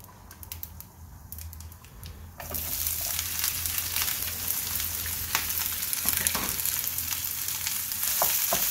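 Onions hit hot oil in a pan, and a quiet background suddenly turns into a loud, steady sizzle that keeps going with light crackles, no voices.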